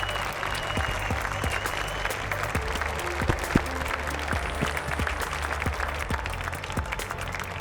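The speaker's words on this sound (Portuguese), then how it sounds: "Eu gostaria de uma salva de palmas para essa" An audience at a Sebrae Startup Day event claps steadily throughout, a dense, sustained round of applause from a crowd, with faint murmurs underneath.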